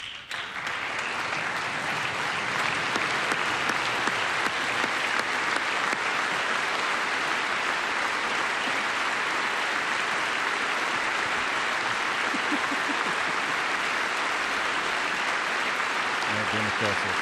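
Sustained, loud applause fills a congressional chamber during a presidential address to Congress, a dense unbroken wash of clapping from a large audience with a faint voice underneath.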